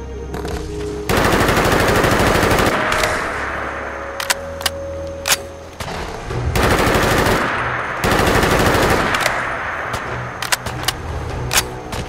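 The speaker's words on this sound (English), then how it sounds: "Shoot it, Nick." Automatic gunfire from Fallout 4 roars in long, loud sustained bursts, broken by short pauses and a few sharp single cracks.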